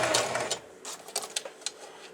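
Sewing machine stitching a fabric seam in short bursts, with stop-and-start clattering runs and brief pauses between them, close and alone.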